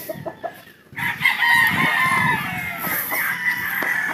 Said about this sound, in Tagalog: Ito po, napakagandang manok po ito